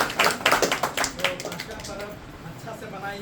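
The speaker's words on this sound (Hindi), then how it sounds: "एक बार खुश पास्का परब जोरदार ताली बजा देंगे" An audience claps at an Easter Mass in a church, a loud burst of applause that quickly fades to scattered claps and murmuring voices.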